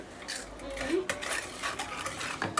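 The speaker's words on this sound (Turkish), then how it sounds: "Arkadaşlar şimdi karıştırıyoruz." Cake batter is stirred in a bowl with a utensil, giving quiet, quick scraping and light clinking strokes in a short close-up burst.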